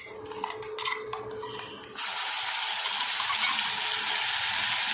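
Green ground paste drops into hot oil with urad dal and chana dal: after a couple of seconds of utensil clinks and stirring, a loud, close sizzle bursts in and keeps hissing steadily.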